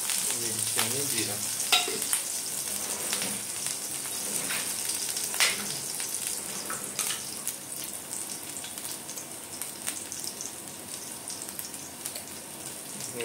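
Green chillies and cumin seeds sizzle steadily in hot oil, a continuous crackling fry with scattered sharper pops and occasional stirring clinks, close and fairly loud, with no talking.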